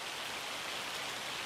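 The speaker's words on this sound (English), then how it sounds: "Of course it's raining." Rain falls in the video game Farming Simulator 25, a faint, steady hiss of droplets with no voices.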